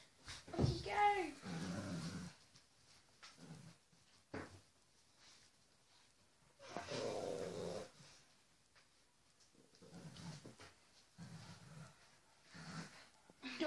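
A playful puppy growls and whimpers in short bursts close by, with people talking around it between the noises.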